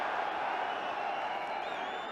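Liverpool supporters applauding an old favourite at a football match against Spurs, a dense, steady wash of distant crowd clapping and murmur filling the stadium without pause.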